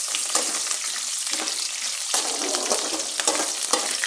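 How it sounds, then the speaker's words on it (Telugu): Red chillies, curry leaves and onions frying in hot oil for a bitter gourd fry, a bright crackling sizzle with irregular stirring scrapes and pops, close and steady with no talking. "ఆనియన్స్ కూడా యాడ్ చేసేసుకొని ఇవన్నీ వన్ మినిట్ ఆయిల్లో ఫ్రై చేసేసుకోవాలి"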